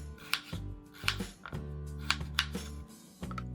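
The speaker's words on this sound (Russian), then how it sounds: "Беру несколько картофелин и нарезаю дольками." A knife slicing potatoes into wedges on a board, several crisp chops at an uneven pace, close and fairly loud.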